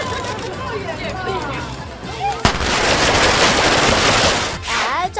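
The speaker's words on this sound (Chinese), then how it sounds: "你宣传就宣传，没事放鞭炮吓自己做什么呢" A string of firecrackers exploding in a loud rapid volley that starts abruptly midway and crackles on densely for several seconds, preceded by people talking and shouting nearby.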